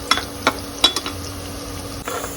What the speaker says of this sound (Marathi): कांदा इथे बघू शकता मस्त असा लालसर होत आलेला आहे